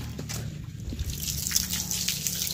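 Water splashes and trickles steadily as it rinses a barn floor during cleaning, a close, continuous wash with small drips and spatters and no talk.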